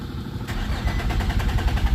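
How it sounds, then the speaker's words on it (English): An Infiniti G35 / Nissan 350Z engine cranks without starting, a steady rhythmic starter whir that begins abruptly and continues close and loud for a couple of seconds. "The car doesn't want to start"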